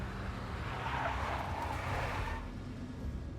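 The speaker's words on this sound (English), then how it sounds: "A big black Mercedes." A big black Mercedes in the video game Max Payne drives past with a roaring engine and a swelling tire skid that fades out, loud and close, with no speech.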